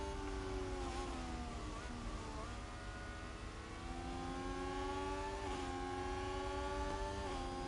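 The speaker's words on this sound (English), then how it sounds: "But look at the acceleration of that Haas though." Haas Formula 1 car in F1 Manager 22 at the Sakhir circuit, a high-pitched engine whine climbing and shifting through gears as it accelerates, with other cars droning steadily in the background.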